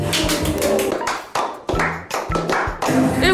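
Someone claps hands in loud, close, separate bursts of sharp slaps, uneven rhythm with brief pauses between groups.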